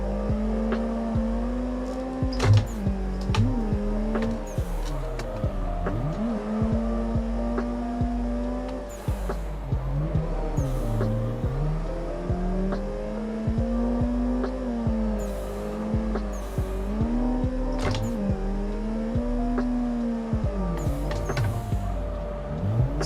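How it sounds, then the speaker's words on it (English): A drift sim video game car engine revs hard and repeatedly, rising and dropping in pitch as gears shift again and again, a loud continuous whine with rhythmic pulls and quick dips between shifts. "So much gear shifting going on."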